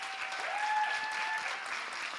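Steady applause from an audience at a youth pitch event, a dense, even wash of many hands clapping, continuous and fairly loud throughout with no talk.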